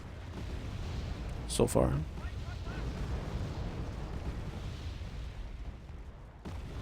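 Distant artillery bombardment in the real-time strategy game Wargame Red Dragon, a rumbling battlefield bed with a sharp burst of impacts early on, heard softly beneath a brief bit of speech.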